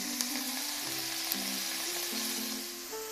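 One pound of ground beef frying in canola oil in a stock pot, a steady loud sizzle and crackle with occasional pops, heard alone and up close.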